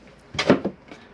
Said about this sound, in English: pressing the catches in, you can open the drawers